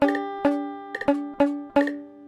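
Several plucked guitar notes, each cut short with a dull, damped attack from a finger muting the string, played one at a time in an uneven rhythm.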